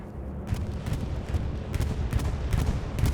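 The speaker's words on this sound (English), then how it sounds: "bombing run coming in" Bombing-run explosions in a multiplayer war video game, a steady rumble of repeated distant blasts and thuds rolling on without pause, with no voices.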